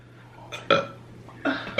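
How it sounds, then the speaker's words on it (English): Two sisters burp with open mouths in a close, loud burping challenge, several short croaky belches in quick succession with brief quiet between them. "We gotta be looking at each other and burp with our mouths open"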